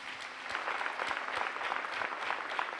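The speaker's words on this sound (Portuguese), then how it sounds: "Pode aplaudir ao Senhor" A church congregation in Itaquera claps steadily and loudly for the Lord, dense overlapping applause filling the whole stretch with no clear voices above it.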